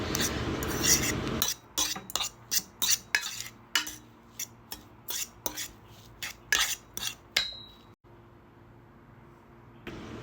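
A utensil clinks and scrapes rhythmically against a bowl while stirring an egg sandwich spread seasoned with smoked paprika, a quick run of bright taps that stops near the end.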